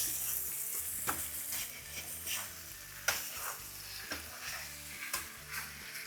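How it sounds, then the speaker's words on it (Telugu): Chicken sizzling and frying in a pan for an onion-chili chicken fry, a steady bright crackle broken by several sharp scrape and stir clatters spread through the clip, with no talking. "ఇంకొక రెండు నిమిషాలు ఫ్రై చేస్తే సరిపోతుంది"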